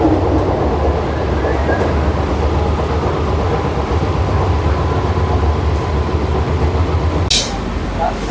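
An air-conditioned local train on the Sealdah–Ranaghat line rumbles steadily with a low, continuous roar in the rain, faint voices in the carriage and a brief sharp squeal near the end.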